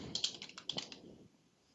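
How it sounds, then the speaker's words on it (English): Quick bursts of keystrokes on a computer keyboard, a short run of crisp close clicks that taper off into quiet, with no voice. "I type in SPARKLINE."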